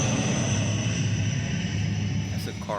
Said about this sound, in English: that's a cargo plane.